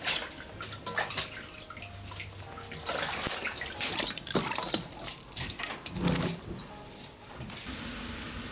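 Water splashes and drips as beans are rinsed by hand in a home kitchen, with irregular swishing and trickling bursts, fairly close and steady throughout.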